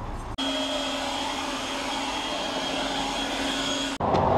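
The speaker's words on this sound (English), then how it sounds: "This job is perfect to have my blow dryer on because it's so small." A small handheld blow dryer runs steadily at close range, drying white paint on a window, its constant whirring hum starting abruptly, holding level for several seconds, then cutting off.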